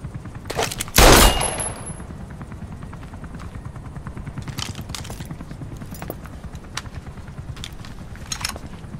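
Automatic gunfire in the Metal Gear Solid V: The Phantom Pain video game: one loud burst near the start, then scattered sharp shots and clicks over a steady low rumble, with faint voices.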